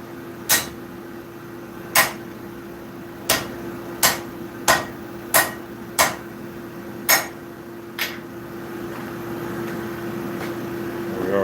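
Forged steel bolt jaw tongs are hammered on an anvil. About nine sharp metallic strikes ring out at an uneven pace over a steady background hum, and then the blows stop.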